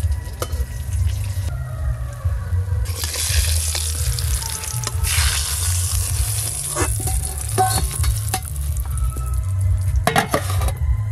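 Soft eggplant slices sizzle steadily in hot oil in a pan, a continuous close frying hiss with occasional clinks of a utensil against the pan and no talking.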